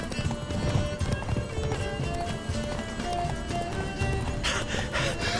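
Roach, Geralt's horse in The Witcher 3, gallops with a rapid, continuous clip-clop of hooves, close and prominent over a faint tonal game backdrop, with a brief whinny-like rise near the end.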